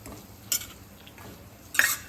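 Cashews being stirred into a sweet prasad mixture in a pan for a Satyanarayan puja offering, with two sharp scraping clinks of a spoon against the pan separated by quiet stretches.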